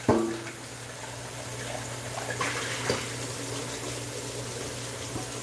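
Tap water runs steadily as food is rinsed under it in a kitchen sink, a continuous close splash with a low hum beneath and a few faint clinks.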